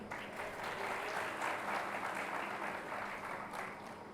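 An audience at a community function in Surat applauds in a dense, sustained burst of clapping that swells and then tapers slightly toward the end.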